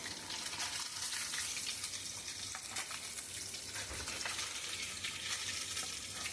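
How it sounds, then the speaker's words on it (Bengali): Parshe fish frying in oil, a dense, continuous sizzle with crackling spatters, heard close and steady without any talking. "আমি অল্প অল্প করে মাছ ছেড়ে ভাজবো।"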